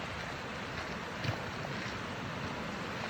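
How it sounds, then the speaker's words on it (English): Broadband rushing of Blackwell Creek flowing along a Georgia hiking trail, steady and loud, mixed with wind buffeting the microphone and no voices. "I'm going to presume that this is Blackwell Creek"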